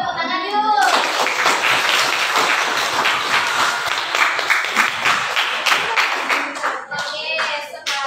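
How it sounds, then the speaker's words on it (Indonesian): A classroom of students claps together after a short review session, a dense sustained burst of applause lasting several seconds before thinning out, with a few young voices calling out near the end. "Beri tepuk tangan yuk."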